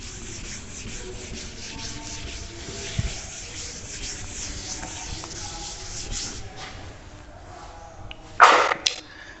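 Writing being rubbed off a board during a maths lesson, soft repeated scraping and rubbing strokes at close range, with a sharper burst of rubbing near the end.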